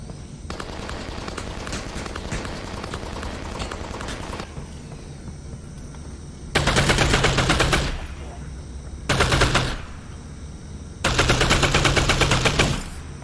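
Bursts of automatic gunfire in Half-Life: Alyx, three loud sustained volleys separated by quieter stretches of ambient game sound, with someone talking at times.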